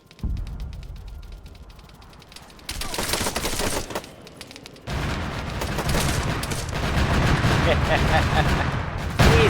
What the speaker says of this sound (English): I'm hearing some sort of turret.